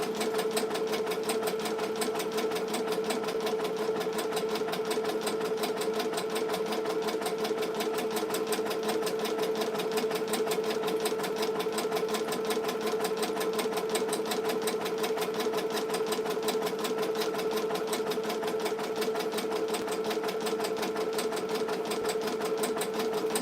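A Ricoma EM-1010 embroidery machine stitches steadily for the whole stretch, a fast even mechanical chatter with a constant hum, no voices.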